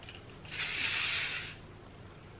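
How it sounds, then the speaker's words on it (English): Kenra hairspray sprayed onto curled hair in a single steady hiss lasting about a second, close and fairly loud, against a quiet room. "I'm gonna go ahead and spray this one side with some Kenra hairspray."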